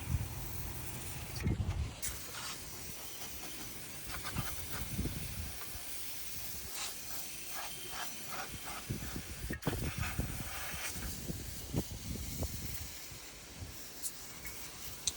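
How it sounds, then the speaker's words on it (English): Steady hiss of water sprayed from a hose or pressure washer as equipment is doused down to clean it, continuous and fairly faint, with scattered clanks and shuffles of a person moving around the machine outdoors. "Just kind of going through and dousing everything down."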